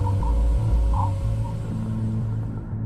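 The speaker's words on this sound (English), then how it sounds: "This is the sound of the solar wind as it abruptly slows down from the pressure of interstellar gases." Voyager 1 recording of the solar wind abruptly slowing against interstellar gas, heard as a low rumbling, pulsing drone with faint hums above, steady and moderately loud.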